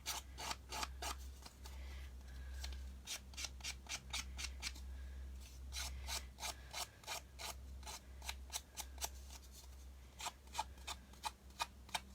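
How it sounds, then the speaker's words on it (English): Scissors roughing up the edges of paper for a rustic paper snowflake make a steady run of quick, crisp snips and rasping cuts close by, over a low constant hum. "I'm going to take my scissors and I'm going to kind of rough up the edges here"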